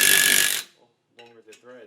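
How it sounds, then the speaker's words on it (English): A 3/8-inch impact gun tightens bolts on a brake drum in a short, loud, harsh mechanical burst at the start, followed by a person talking. "in this case a 3/8 impact gun. Just tighten them up equally."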